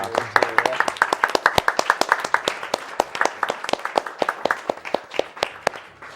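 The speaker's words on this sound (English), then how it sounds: "give a round of applause for the Yeti" A crowd claps in a steady burst of applause lasting several seconds, dense and fairly close, with a few voices faintly mixed in.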